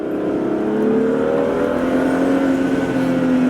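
A BMW F30 335i engine drones steadily and loudly through an aftermarket aFe Power intake, with a rising whirring intake tone as it builds boost, continuous throughout.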